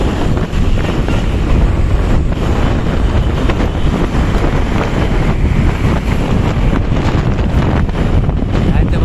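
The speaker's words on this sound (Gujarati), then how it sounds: "ઠંડો ઠંડો પવન આવે" Strong cold wind buffets the microphone in a constant roaring rush by a roadside, loud and unbroken throughout with no voices.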